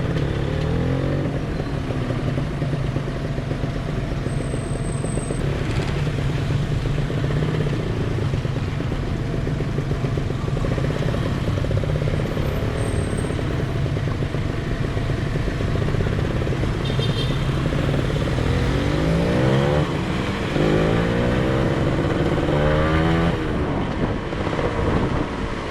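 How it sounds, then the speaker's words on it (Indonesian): Dense traffic jam of motorcycles and cars on a street in Sunter, Jakarta, a steady close rumble of idling and creeping engines with wind buffeting the microphone throughout and no voices. "Waduh gila macet lagi."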